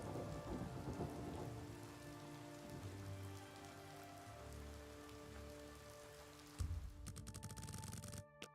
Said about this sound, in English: when it rains, you got something over your head, you ain't gonna see the rain